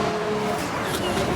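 Ferrari Formula 1 car engine in the racing game F1 Manager 22, a steady sustained engine roar with a faint high whine, heard alone with no talking.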